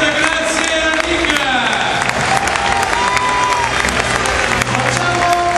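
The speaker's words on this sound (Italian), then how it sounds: "Qualche applauso per Nick Mallet, grazie a Nick." Stadium crowd at a rugby test match between Italy and Japan applauding and cheering, a dense, steady wash of clapping and shouts filling the whole stretch, loud and continuous with a few whistles and whoops rising above it.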